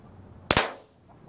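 A Walther PPK/S blowback BB pistol fires one sharp shot outdoors at grass, with a sharp crack and a quick slide click, close and loud, then quiet.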